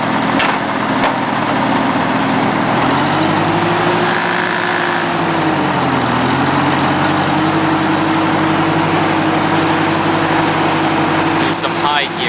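Massey Ferguson MF-50 tractor, Z134 engine, idling steadily after a summer cold start, a loud close chugging drone with the pitch dipping briefly around the middle before settling back to an even idle.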